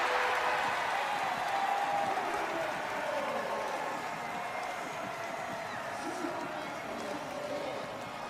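A stadium crowd roars at a Premier Lacrosse League game between the Maryland Whipsnakes and Cal Redwoods, a loud, steady, broad wash of cheering and clapping that holds throughout.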